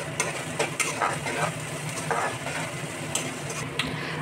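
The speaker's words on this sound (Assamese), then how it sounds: "আকৌ এক মিনিটমান সময় ভাজি ল'ম" Pork dry-frying without masala in a pan, with green chilli added, gives a steady close sizzle broken by repeated scraping and stirring clatter of a utensil against the pan, with no talking.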